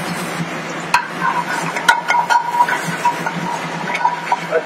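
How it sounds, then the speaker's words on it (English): Garlic sizzles steadily in hot butter in a hot pan, a close, continuous crackle broken by occasional clicks and scrapes of stirring. "So, hot pan, hot butter. We're putting some garlic."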